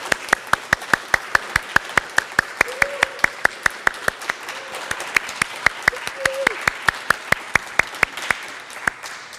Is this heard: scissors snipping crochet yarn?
no